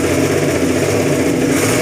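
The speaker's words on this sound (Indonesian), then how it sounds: "Hino EM 100 yang 3 tahun dongkrak akhirnya mau nyala ya." Hino EM100 truck diesel engine running steadily after sitting dead for years, a dense, continuous mechanical drone with a low rhythmic throb, loud and close with no voices.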